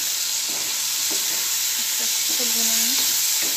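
Green chillies and tomatoes stir-frying in a pan for egg curry give a steady close sizzle, with a few soft stirring scrapes and a spatula sweep near the end.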